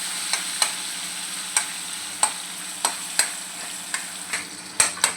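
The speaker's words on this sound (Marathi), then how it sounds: "मी हा बॉईल केलेला कांदा आहे तो आता मी यात घालणार आहे। मला चांगलं आपल्याला शिजवून घ्यायचं तेलामध्ये।" Boiled onion frying in oil for a spiced black chickpea dish, with a steady sizzle and sharp, spaced clinks of a spoon stirring the pan, close and without speech.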